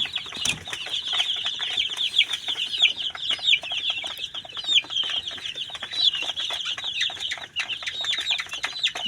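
Desi chickens cluck and chatter continuously in a close, busy flock, with occasional wing flaps and no talking.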